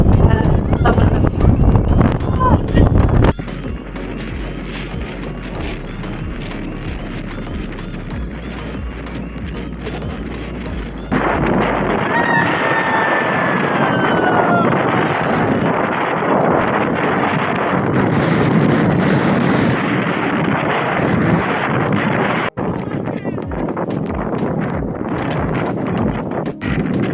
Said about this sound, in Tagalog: Pero sobrang hangin.